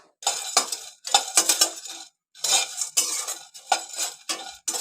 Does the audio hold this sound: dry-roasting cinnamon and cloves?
yes